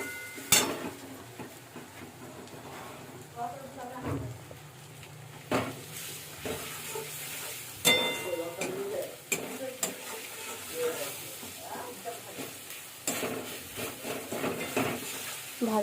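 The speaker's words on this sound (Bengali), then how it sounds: "তারপর ভালো করে নাড়াচাড়া করতে হবে" A spiced mixture stirred and sautéed in a pan, with a steady low sizzle under irregular scraping and stirring strokes and occasional louder knocks of the spoon against the pan, close by and without talk.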